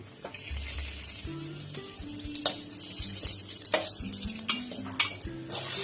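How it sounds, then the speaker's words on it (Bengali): Bay leaves and dried chillies dropped into hot oil for a Bengali tempering for katla fish curry, giving a steady close sizzle broken by scattered spoon scrapes and metallic clinks against the pan. "তেজপাতা, শুকনো লঙ্কা ফোড়নে দিয়ে দিলাম।"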